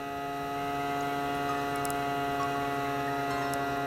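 A motorized hang glider's engine drones steadily in flight with a stable harmonic hum, loud and close throughout, with no talk over it.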